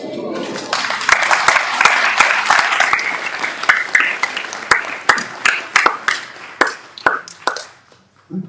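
An audience at a temple seminar day at a school in Newcastle breaks into full applause, which then thins to scattered individual claps before stopping. A voice can be heard briefly in the background.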